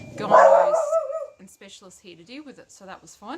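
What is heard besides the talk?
dog barking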